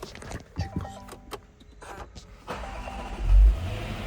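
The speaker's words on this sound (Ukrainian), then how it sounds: "Так, запустимо автомобіль." A 2019 Land Rover Range Rover engine, 525 horsepower, cranks and catches, rising into a low rumble that swells briefly before settling into a steady idle.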